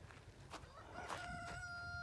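A rooster crows up close with a drawn-out cock-a-doodle-doo, following a few short clucks from chickens nearby, with no talking.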